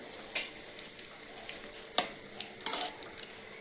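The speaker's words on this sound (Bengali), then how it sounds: "তারপরে দিয়ে দিলাম দুটো পেঁয়াজ আর তেজপাতা" Onions and bay leaves fry in hot oil with whole spices for biryani, a light crackling sizzle broken by sharp spattering pops and soft stirring scrapes, close by with no speech.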